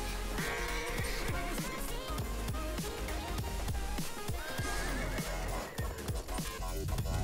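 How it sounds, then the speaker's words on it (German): A horse neighs loudly twice over busy Battlefield 1 game sounds, with thumping hoofbeats and clattering effects throughout. "Ah, Pferd. Höher, schwenk die Hufe."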